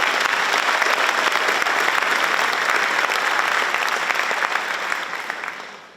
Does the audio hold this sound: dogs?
no